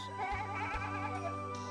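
Goats on a mountain livestock farm bleat in a loud, wavering, drawn-out cry lasting nearly two seconds, with a steady low hum beneath.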